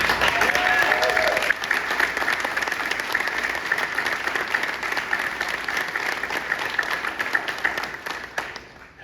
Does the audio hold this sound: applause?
yes